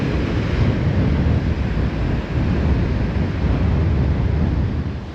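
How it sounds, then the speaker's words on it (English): Heavy wind at the beach buffets the microphone in a constant low roar, with a wash of surf rumble beneath and no voices. "it is windy out here"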